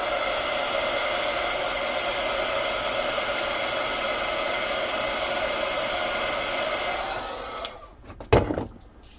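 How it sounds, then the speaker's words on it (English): A heat gun blows a steady, loud hiss of hot air over wet alizarin crimson watercolor paint for several seconds, then cuts off, followed by a few clunks as it is set down. "Heat gun."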